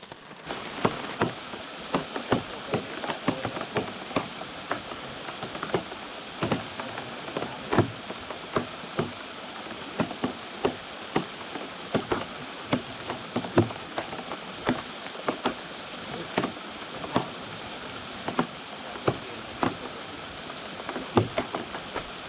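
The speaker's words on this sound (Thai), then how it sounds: "ซึ่งฝนเนี่ย ก็ตกหนักกว่าเดิมนะครับ" Heavy rain falls at night beside a stream, a dense steady hiss with sharp scattered drips and taps landing on nearby surfaces, no voices.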